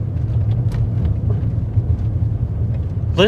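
A low, steady rumble of tires rolling over gravel at about 30 mph, muffled as heard from inside a quiet high-mileage Mercedes S550 cabin, with faint crackles scattered throughout.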